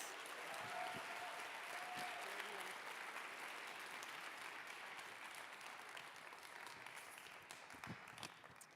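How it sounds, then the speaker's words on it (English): Audience at a climate activism event gives a sustained round of applause, a steady wash of many hands clapping at moderate distance that slowly tapers off, with a few brief voices mixed in. "Let's give them another round of applause."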